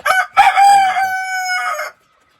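A Wyandotte rooster crows close and loud in one long drawn-out call, with a couple of short clucks just before it, then silence.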